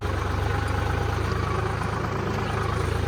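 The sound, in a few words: tractor engine idling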